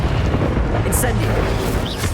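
A fire spell, Incendio, is cast in Hogwarts Legacy, a loud roaring whoosh of flame over a rumbling blast, with a brief voice calling out alongside it.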